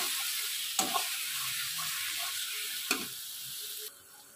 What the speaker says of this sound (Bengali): মাটনটা দিয়ে আমি ভালো করে কষিয়ে নেব।